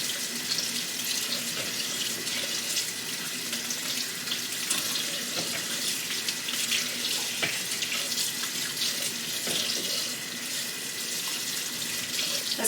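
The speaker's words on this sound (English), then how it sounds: "we want to drain them, so I'm just going to kind of throw them in that little colander" Water pours steadily into a sink as okra is drained through a small colander during home canning prep, a continuous, fairly close splashing rush with no talk.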